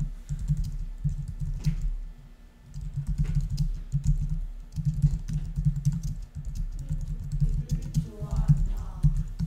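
Rapid typing on a computer keyboard during a Korean grammar lesson: quick, uneven bursts of close key clicks with brief pauses, continuing for several seconds.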